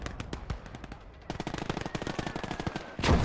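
A squad fires rapid machine-gun and rifle bursts in the World War II strategy game Gates of Hell: Ostfront, dense overlapping shots continuing almost without pause, with a heavier blast at the end.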